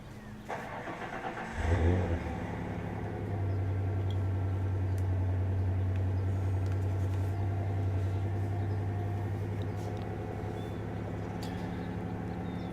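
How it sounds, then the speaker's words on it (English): A pickup truck engine starts with a low rumble, then idles and hums steadily while being driven and turned around during December 2018 wind storm cleanup, moderately close and without talk. "Now I got to get my truck out of the way"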